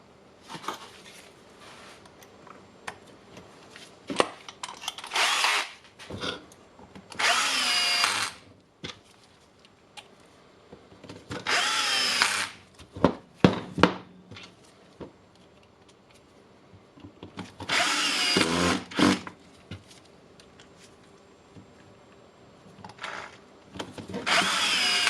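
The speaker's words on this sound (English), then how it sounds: "Just make a check that the armature is spinning around." Milwaukee M18 impact wrench with its armature motor spinning on the bench during repair, heard as several short, whining motor bursts separated by quieter clicks and handling noises.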